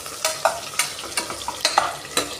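Ginger and garlic fry in a pan, stirred with a spoon: about eight sharp scraping strokes in an uneven rhythm over a steady low sizzle, close and clear, with no voices.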